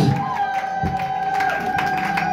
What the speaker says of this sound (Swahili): Chapa vigelegele tena